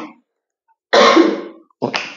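A loud, close cough bursts out after a brief silence in a math class, followed by a second shorter cough or sharp breath.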